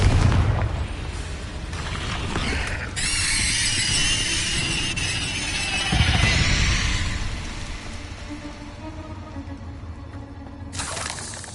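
A Confringo blasting spell in the video game Hogwarts Legacy, heard as a few loud booming explosions with hissing, crackling bursts and a squealing tail, no talking.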